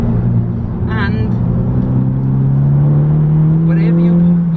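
A modified Honda Civic Type R, front-wheel drive, accelerates. A strong engine drone climbs slowly and steadily in pitch, heard from inside the car, with a person talking over it in short bursts.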